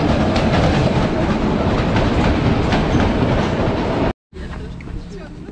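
A train rolls past on a seaside railway line in Makhachkala, Dagestan. It makes a loud, close, continuous rumble with rhythmic wheel clatter, then cuts off abruptly near the end, leaving quieter ambient noise.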